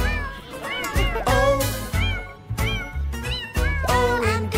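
Cat meows in a children's song about a farmer's cat, a series of rising and falling meow calls repeated in rhythm over a bouncy musical backing.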